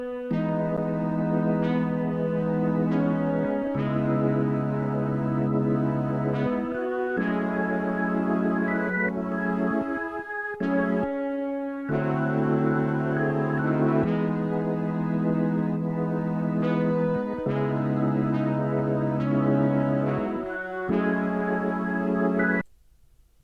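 A 70s soul-style sample section plays continuously and loud with brass, horns, organ and an SRX keyboard flute layered in sustained chords and riffs, ending abruptly.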